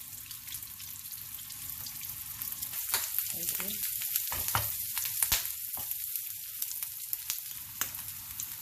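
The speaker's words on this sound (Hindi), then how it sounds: "कबाब को फ्राई करने लगे हैं। अभी डालेंगे थोड़ा सा ऑयल" Shami kebabs fry in oil in a pan with a steady, loud, crackling sizzle that grows busier partway through, punctuated by sharp pops.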